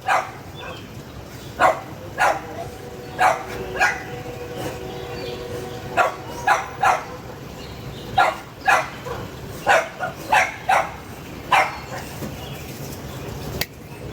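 A dog barks repeatedly in short, sharp bursts at a fairly steady pace, fairly close, with a faint background hum between barks.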